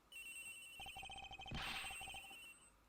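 Cell phone ringing in the Ace Attorney Investigations video game, a repeated electronic trill with a sharp burst in the middle, fairly close and clear with no talking.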